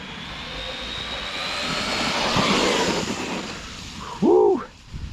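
A Losi LMT Grave Digger RC monster truck from 2021 drives along, its electric motor giving a steady whirring roar that swells and fades, with a brief voice exclaiming near the end.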